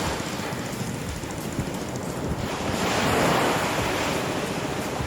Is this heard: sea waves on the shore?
yes